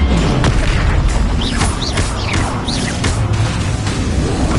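Confringo fire spell blasts in Hogwarts Legacy go off as a loud, dense burst of booming crackle, with several short whooshing streaks cutting through a continuous explosive roar across about four seconds.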